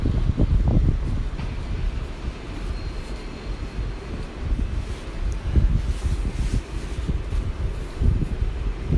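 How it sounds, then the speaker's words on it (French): Alstom Coradia Liner train engines rumble at Gare de l'Est in Paris, a low steady roar mixed with wind buffeting the microphone on the platform. "on va remonter pour écouter vrombir les moteurs"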